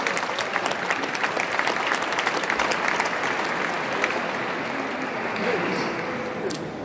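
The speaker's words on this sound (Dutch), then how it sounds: "het is altijd leuk om die mensen even met een applaus te bedanken." An audience applauds to thank emergency services who were out all night, during a mayor's New Year's address in Leiden; steady, dense clapping fills the room at even loudness throughout, with no talk.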